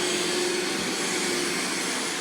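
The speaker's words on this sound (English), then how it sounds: "This is like the Porsche of vacuum." A German-made vacuum cleaner runs steadily and loudly up close, a continuous even motor whine with no breaks.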